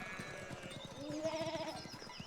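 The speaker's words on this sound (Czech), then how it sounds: "Tady jsou fakt všude ovce. Úplně všude tady jsou ovce." Sheep bleating in the medieval video game Pentiment, one wavering bleat rising over soft rhythmic footsteps, with a faint second call behind it.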